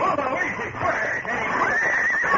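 Several horses neigh and squeal in a radio drama scene as they plunge about and buck, shrill whinnies rising and falling continuously over a busy, dense background with voices mixed in.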